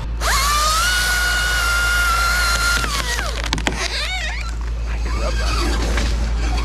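A chainsaw cuts into a maple tree during a removal job, holding a loud, steady high whine that drops and sputters near the end, then settles into rough idling bursts.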